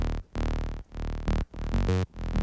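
A plucky synthesizer bass tone with FM from a second oscillator repeats as four loud, sustained notes, each cut off by a short gap, with the last note brighter and shifting in pitch.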